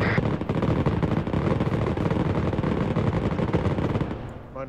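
Rapid sustained machine-gun fire in a war video game, dense continuous bursts at close range for several seconds before cutting off abruptly near the end.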